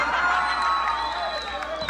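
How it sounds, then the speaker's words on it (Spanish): An audience at a live entertainment show claps and cheers, with shouts and whoops over continuous applause and some voices mixed in. "¡Aplauso, por favor!"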